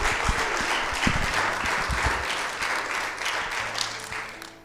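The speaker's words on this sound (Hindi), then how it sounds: "जोरदार ताली प्रभु यीशु नासरी के नाम के लिए।" Loud, sustained applause from a church congregation fills the space evenly for several seconds, with clapping hands throughout and only a slight fade toward the end; no speech is heard.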